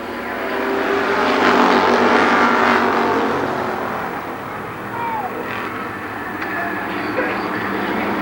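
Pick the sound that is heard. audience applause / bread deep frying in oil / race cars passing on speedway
race cars passing on speedway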